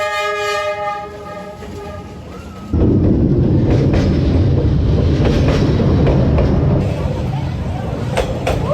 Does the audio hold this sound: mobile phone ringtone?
no